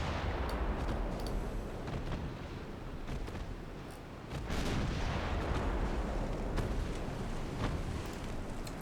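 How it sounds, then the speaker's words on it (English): Naval battle in a warship video game as a torpedo cruiser fires its torpedoes, a dense, faint rumble of distant booming shots and blasts running continuously beneath a steady roar. "They have just fired their torpedoes."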